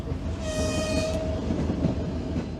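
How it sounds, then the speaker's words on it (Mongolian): A train on the Beijing–Moscow line through Russia and Mongolia rumbles past close by, a loud continuous rolling roar with a brief high horn tone early on. "Галт тэрэгний дуу."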